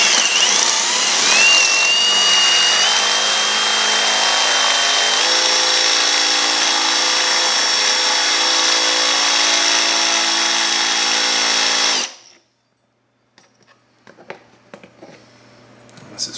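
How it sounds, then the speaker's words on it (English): A step drill bit bores a bolt hole through a garage door during a Chamberlain garage door opener installation, a loud steady whine with rising pitch for about twelve seconds, then it stops abruptly, leaving faint clicks and handling noise. "we're just gonna use our step bit again, and we're gonna go one peg down"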